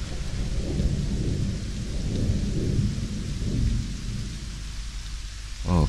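In Fortnite Lego, a thunderstorm plays as in-game ambience, with rain hissing steadily and deep rolling thunder rumbling throughout, heavy and constant before it fades near the end.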